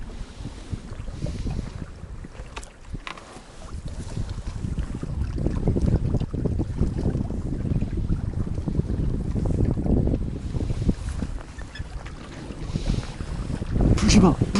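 Wind gusting over open water at a fishing spot among flooded trees, a steady loud rushing roar with low buffeting rumble throughout, brief bumps near the start and end, no clear talk.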